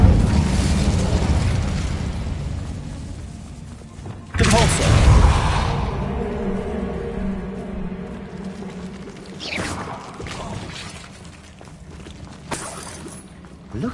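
An Incendio fire spell cast in Hogwarts Legacy: a deep whooshing burst of flame with a heavy low thump that swells and fades. Game ambience rumbles before it, and more crackles and bursts follow.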